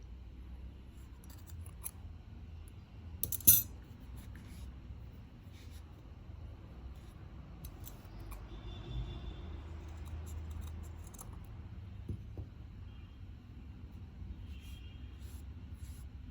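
Scissors snipping yarn to cut crochet doll hair, faint quiet snips scattered over a low room rumble with one louder cluster of cuts.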